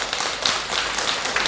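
Brief burst of audience clapping during a Buddhist dharma talk in a temple hall, a dense patter of many hands close and continuous for a moment with no voice over it.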